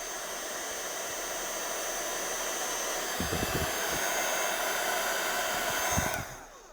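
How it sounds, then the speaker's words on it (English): A handheld craft heat tool blows hot air in a steady, close whooshing roar for several seconds while heating a card image, with a few soft knocks near the end before the airflow tapers off. "So I'm going to go back in with my heat tool."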